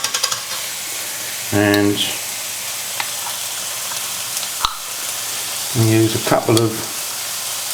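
Vegetables and lentils sizzle steadily in a pot with a curry paste as a spoon stirs them, a soft continuous hiss broken by two short bursts of speech.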